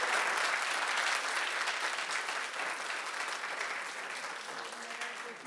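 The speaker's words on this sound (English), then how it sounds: "You can clap" Sustained applause from an audience at a municipal mayor and council reorganization meeting, steady dense clapping that fills the room and gradually eases slightly in loudness over several seconds.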